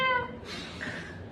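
A single short cat meow near a large Christmas tree, a brief rising-then-falling cry at the start followed by quiet background murmur.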